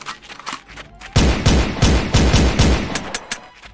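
Rapid gunfire rattles in bursts in a SpongeBob shooter video game, loud and close, with a quieter lead-in before the sustained volley.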